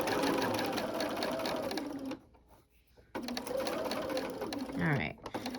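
A sewing machine stitches fabric in two long, steady runs split by a brief pause, its rapid mechanical chatter loud and close, with a voice talking underneath.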